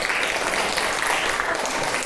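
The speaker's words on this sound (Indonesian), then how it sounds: "Kita berikan tepuk tangan ke temannya." A classroom of students gives a classmate a round of applause, dense and even clapping throughout at moderate volume, with no speech.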